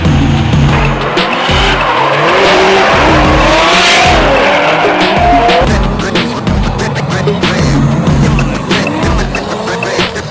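A Nissan S15 drift car with a 2-litre engine of about 460 horsepower skids hard, its tires squealing over a loud, sustained engine roar that holds strong throughout with no talk.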